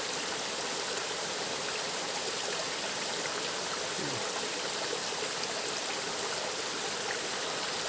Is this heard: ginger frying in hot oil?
no